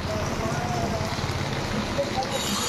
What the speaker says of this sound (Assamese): ইমান বৰষুণ পৰি আছে